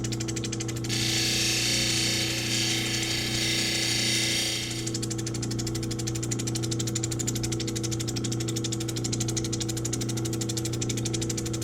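A lapidary cabbing machine grinds the bezel edge and dome of a stone cut from scraps, a loud steady motor drone with a bright hissing grind that fades after a few seconds, leaving the machine running alone.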